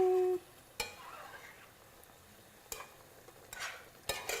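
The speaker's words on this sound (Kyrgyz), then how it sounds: "курдак куурулуп атканда" Kurdak meat fries in a pan and is stirred, with a faint steady sizzle broken by several sharp scraping strokes of the stirring utensil, fairly quiet overall.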